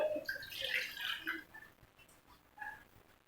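Water, a little under one cup, is poured into a pot on a gas stove for a home kadha remedy, a brief splashing pour that fades into faint trickles and drips.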